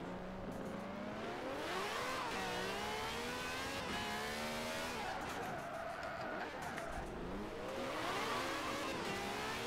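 A 1970 car accelerates in a racing video game, its engine whining and climbing steadily through gears, loud and continuous with rising and falling pitch sweeps across the whole stretch.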